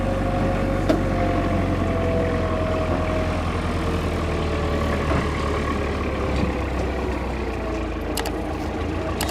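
Tractor engine chugs steadily through a village ride, a low continuous rumble with rattling and occasional knocks, loud and close, no voices over it.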